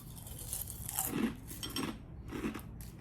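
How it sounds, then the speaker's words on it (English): Dry Frosted Flakes Chocolate Peanut cereal scooped and crunched straight from the box, giving three close, distinct bursts of crisp crunching at steady intervals over a quiet room background. "We'll now be trying the cereal dry, as if you're eating it from the box."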